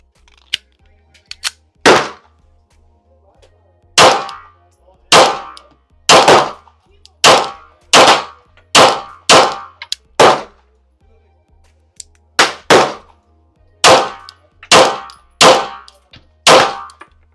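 Tisas Night Stalker DS 9mm pistol firing Freedom Munitions 124 grain rounds at a range: about fourteen sharp, loud shots in irregular clusters with short pauses between strings, no talking.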